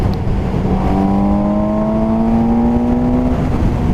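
Suzuki GSX-S750 2017 motorcycle accelerating in fourth gear from about 100 km/h on an unfaired naked bike, engine note climbing steadily in pitch under loud wind rush, close and continuous.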